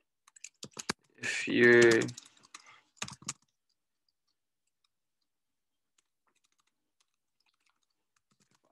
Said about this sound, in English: Now, what do I type in here?